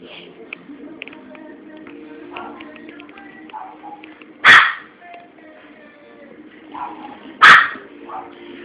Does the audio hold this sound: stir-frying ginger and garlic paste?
no